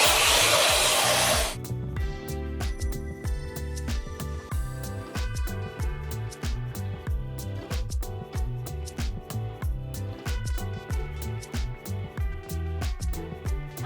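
A hair dryer blows loudly and steadily on wavy hair for about a second and a half, then cuts off as music takes over for the rest.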